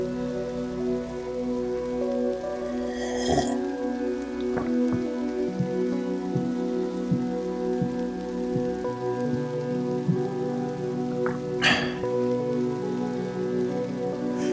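Steady rain patters against a window glass, a dense continuous hiss of drops at even loudness throughout, with a low droning hum beneath and no voices.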